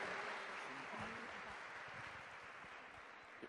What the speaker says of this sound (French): je pense qu'on peut les applaudir vraiment très chaleureusement